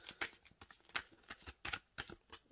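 A Cosmic Slumber tarot card deck by Tillie Walden is shuffled by hand, producing a series of close, crisp riffling bursts and soft card slaps in an irregular rhythm, with no talking.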